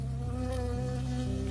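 A bee buzzes in the Firewatch video game with a steady, close, droning hum that holds for the whole moment, with no voices.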